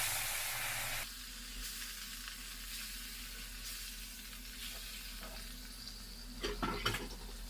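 Pieces of rohu fish, rubbed with turmeric and salt, drop into hot oil in a heated wok and fry with a steady close sizzle after a brief louder start, with a burst of spattering toward the end.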